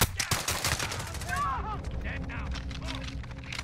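Rapid Sykov pistol gunfire in the video game Call of Duty Warzone, a burst of sharp shots up front followed by scattered further shots and game effects, with a voice talking over it.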